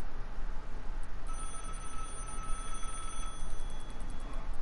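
An in-game telephone rings in the video game Vigor, a faint, repeating high trill over a steady bed of noise with no talking.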